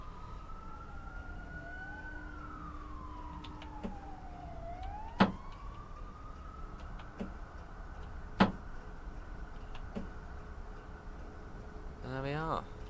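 Emergency sirens sweep up and down near London Victoria station in Train Simulator Classic, from the cab of a Class 456 train, one long wailing tone over a steady rumble, with sharp clicks and a fast warbling burst near the end.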